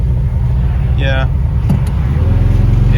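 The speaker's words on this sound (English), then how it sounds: "Here we are in an Aurelia trying to drive to join on normal traffic on an A road in Britain" Lancia Aurelia classic car driving on a British A road, a loud steady engine and road drone heard from inside the cabin, with a brief voice partway through.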